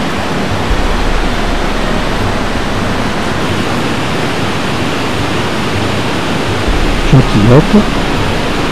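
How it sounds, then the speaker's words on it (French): A river waterfall about 5 or 6 metres high roars as a steady, loud broadband rush of falling water throughout, with a brief voice near the end. "La chute atteint déjà 5 ou 6 mètres."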